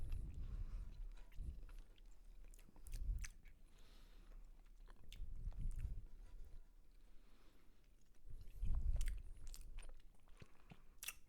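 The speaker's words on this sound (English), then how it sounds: "I can't with these chewy noises." Someone chews chewy pumpkin-flavored snacks from Target close up. Soft, moist bites and munching come in several separate bursts with quiet pauses between them.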